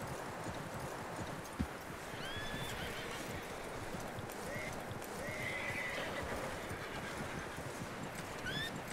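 Horse neighs and whinnies over steady clip-clopping hooves in the Red Dead Redemption 2 video game, several high whinnies scattered across a continuous dense ambient bed, with one sharp knock early on.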